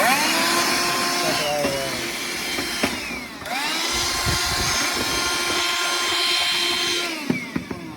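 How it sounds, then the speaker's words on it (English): A small handheld vacuum cleaner whines steadily as it sucks dust off old computers. The motor pitch shifts as the nozzle moves, and it cuts out briefly mid-way before starting again. "I don't know why I don't use this little vacuum more. This is actually very easy."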